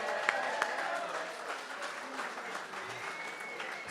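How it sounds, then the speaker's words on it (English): Audience at an art auction applauding a golden raffle winner, a soft, steady patter of many hands clapping at a distance with a few sharper claps standing out. "Could we give Mandy a huge round of applause?"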